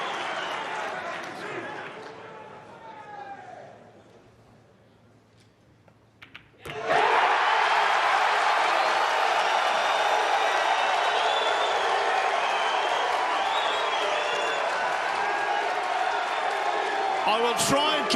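A large crowd at the 2022 Mosconi Cup pool match, Team USA against Team Europe, bursts into a loud sustained roar of cheering and applause that stays at full strength for over ten seconds, after quieter commentary-like voices fade out.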